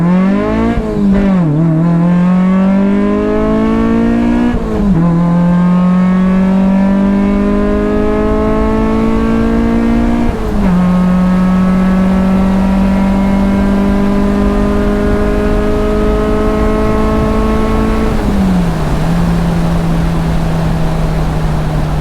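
A car accelerating hard at full throttle, the engine note climbing steadily and dropping sharply at several gear changes, starting with the shift from first to second, loud and close throughout.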